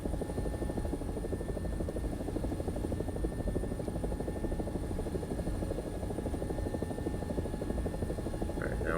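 Italian AB 205 A-1 (UH-1H) helicopter in a video game, its rotor producing a steady, dense rapid thumping and engine drone that stays loud and constant throughout, with no speech.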